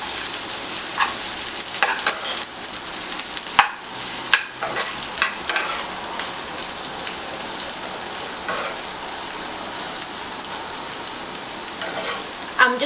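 A small onion, thinly sliced, fries gently in a pan on low heat: a soft, steady sizzle with light scraping as it is stirred now and then.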